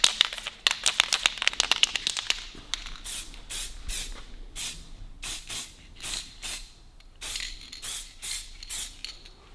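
Aerosol spray paint going onto a Harley Davidson WLA, close hissing bursts in quick short pulses at first, then longer sprays with gaps and faint rattles between them.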